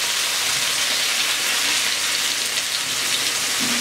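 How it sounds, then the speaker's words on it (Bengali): Onion, garlic cloves and spices frying in a pan for a pigeon and mutton rezala, a dense steady sizzle close by with no talk. "পেঁয়াজটা হালকা ভাজা হয়ে গেছে, এখন আমি এর মধ্যে রসুন কোয়াগুলো দিয়ে দেবো।"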